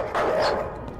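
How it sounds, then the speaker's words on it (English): A dog barks in the horror video game Night People, one loud, close bark that trails off over about a second, heard alone. "Dog, dog, I'm sorry. Dog, shut up."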